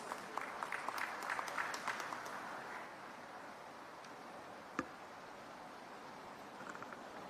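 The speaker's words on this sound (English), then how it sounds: "Let's all together welcome him with a thunderous round of applause." At the opening session of the India Chem 2024 chemicals and petrochemicals conference, a hall audience applauds to welcome the Chief Minister, a soft, distant patter of clapping that swells briefly and then dies away into a quiet room hum.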